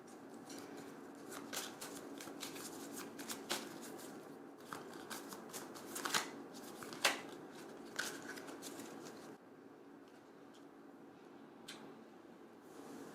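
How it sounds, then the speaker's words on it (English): A deck of oracle cards shuffled by hand in a steady run of soft flicks and riffles, close and quiet, then a near-silent pause with one last faint tap. "I'm going to pull an oracle card."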